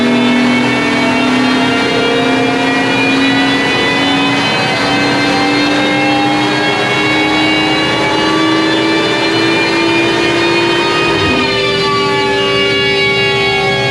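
A stock BMW M140i straight-six engine on a dyno, revving in one long, steady climb with a strong harmonic drone that rises in pitch, then drops sharply near the end as the throttle closes.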